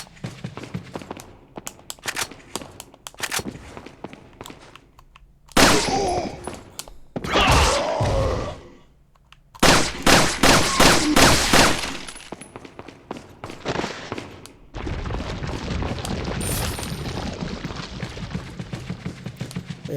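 Gunfire in Resident Evil 4 comes as a series of loud shots and bursts aimed at dynamite, with heavy blasts between them and a rapid patter of shots toward the end.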